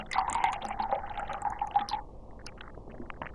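A sweet drink poured into a glass, a close, steady trickling pour lasting about two seconds before it stops, followed by faint small clinks and drips.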